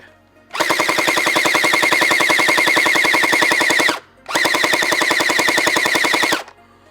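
An X-Shot toy gel blaster fires on full auto in two long bursts of rapid, even mechanical shots, loud and close, separated by a brief pause, with no talking.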